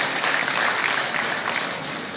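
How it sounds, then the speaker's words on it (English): Guests at a Bauchi agriculture event with the governor clap for him, a brief burst of crowd applause that stays fairly loud and fades slightly near the end. "Please, let's clap for the governor."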